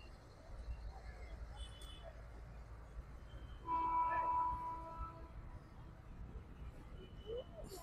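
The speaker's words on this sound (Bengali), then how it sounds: "এই 2 নম্বর লাইনে এখন ট্রেন ঢুকেছে।" A Krishnanagar-bound passenger local train pulls into platform line 2 at a station, its steady low rumble swelling midway as a brief tonal squeal or horn sounds, then easing back to a constant roll.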